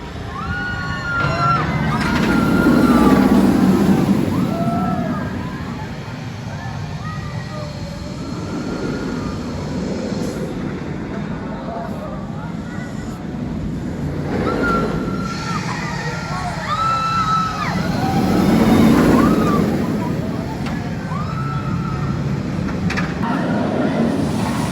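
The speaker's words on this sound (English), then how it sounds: "We're now going for a final ride on Flight of the Himalayan Eagle music roller coaster." Front-row ride on the Flight of the Himalayan Eagle music roller coaster at Happy Valley Beijing, with a continuous rushing rumble and rattle of the train, swelling and easing in waves, plus music and voices over the track noise.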